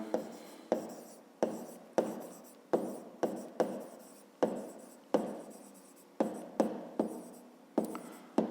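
A pen scratches across paper in about a dozen short, crisp strokes at an uneven pace, each one close and distinct, while math work is being written out.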